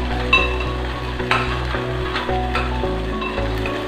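Tomato rasam ingredients sautéing in a pan, a steady close sizzle with occasional stirring clinks and scrapes, no voices.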